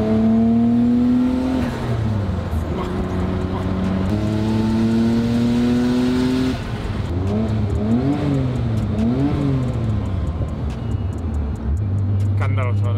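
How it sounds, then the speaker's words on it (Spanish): A Nissan Skyline GT-R R34 engine revving hard again and again, its pitch climbing and falling in repeated swells, with turbo blow-off. The sound is loud and close, and a voice may be heard beneath it. "Escuchar un poquito de sonido. ¡Wow! Descarga el turbo"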